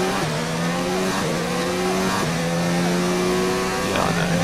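Two Alfa Romeo Formula 1 cars in F1 2019 scream past with a steady, loud, high-pitched engine whine that shifts pitch as they race, with no break in the noise.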